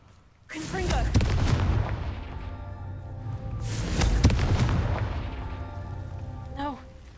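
Confringo spell blasts in a video game: two heavy booming explosions a few seconds apart, each swelling loudly and then rumbling away, with brief voice sounds around them.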